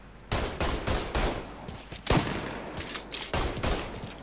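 Heavy, booming shotgun blasts in Mafia 3 fired in a steady series of close, loud shots about half a second apart, each with a short echoing tail.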